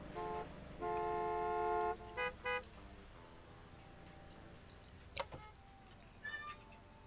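A cat gives a few short, bright meows and chirpy flutter sounds, close and fairly loud, in bursts over the first two seconds, followed by quieter ambient noise and a couple of faint chirps.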